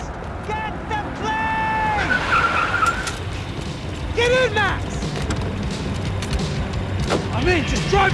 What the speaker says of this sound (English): I'm in, just drive the fucking car!